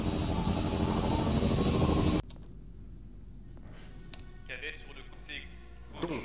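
In the Garry's Mod Clone Wars roleplay game, a gunship engine roars loudly at first, then cuts abruptly to a quieter background with faint mechanical noises and scattered clicks.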